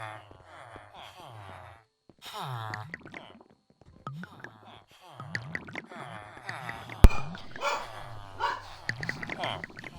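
A young dog in a home barks in short bursts and yips, fairly close, with whimpery breaths between, mixed with a person talking over it.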